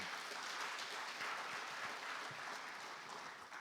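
Sustained applause from a conference audience at an agriculture dialogue session, a soft, even wash of many hands clapping at a distance, with no speech over it, tapering slightly near the end.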